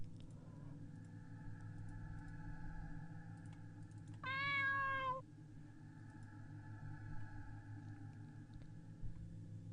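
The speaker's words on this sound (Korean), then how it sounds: "절 마중 나온 고양이가 절 보고 밥 달라고 보채면서" A hungry cat meows insistently for food indoors, one drawn-out, clear meow of about a second standing out over a steady low household hum, otherwise no voices.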